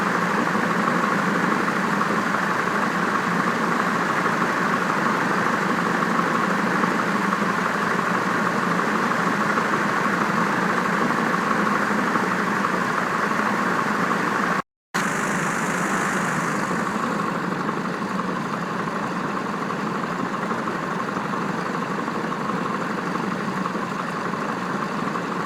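A Piper J3 Cub's small piston engine idles and taxis in a flight simulator game, a steady, continuous mid-range drone that holds evenly throughout with only a brief dropout partway, no voices heard.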